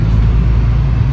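Airport Express shuttle bus K2 pulling away from Kowloon station, heard from inside as a loud, steady low engine rumble and drone without talk.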